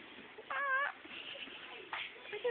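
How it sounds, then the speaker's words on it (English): A kitten gives two short, dry meows about a second apart, fairly close and soft against quiet room noise. "The kitty with a dry meow."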